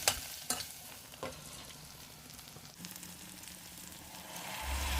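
Tomato paste fries and is stirred in a pan while making traditional borscht, a steady close sizzle broken by a few sharp scrapes of the spoon early on.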